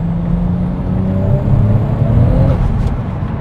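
A Lexus IS with a JZ engine revs up toward about 3000 rpm, its steady engine note climbing in pitch over a constant close-up drone with road and cabin noise, no voices.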